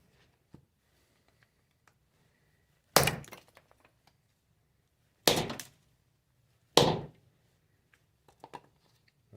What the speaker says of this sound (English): Let's do a little chop test here.